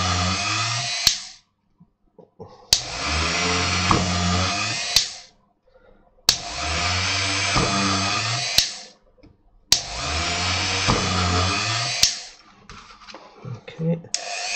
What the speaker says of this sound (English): you can feel when the drill's in the correct position